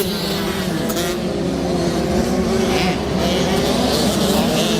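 A motocross race with 85cc bikes on the track, a bike roaring steadily past at close range with a continuous engine drone and no audible talk.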